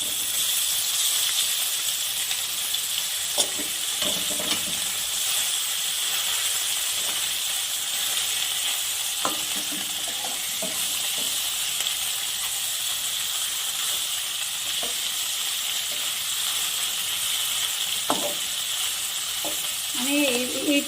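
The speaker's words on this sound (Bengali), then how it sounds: "আমি এই পিসটাও ভালো করে কড়া করে এইভাবে ভেজে নিব।" Flipped tengra fish keep frying in mustard oil, a constant moderate sizzle with occasional spatters and a few light utensil taps, close by and free of speech.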